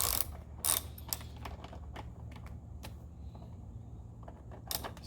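A hand ratchet tightens bolts on an engine dress-up kit for a 2018-2019 Honda Accord, giving quiet, close bursts of fine clicking with a few sharper ticks in a still room.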